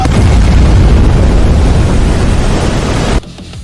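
A sustained, roaring blast from a high-energy laser main cannon firing, loud and dense with booming low rumble for about three seconds, then cutting off abruptly into near silence.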